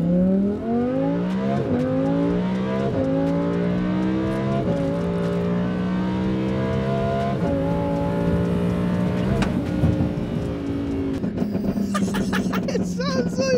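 A Lamborghini engine revs hard and accelerates through repeated upshifts, each gear climbing in pitch before dropping again, loud and close from inside the car, with voices audible briefly toward the end.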